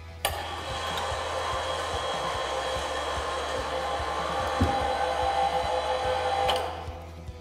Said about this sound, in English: the operator should begin raising the barrier lift in a smooth and controlled manner